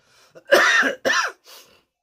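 A person with a cold coughs close by, two harsh hacking coughs followed by a softer, shorter one.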